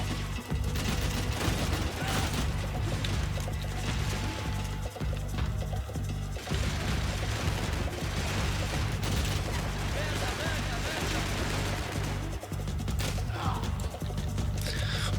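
Gunfire in the video game Max Payne 3 fires as a steady stream of close, heavy shots and bursts under a constant loud bed of game noise, with people talking over it.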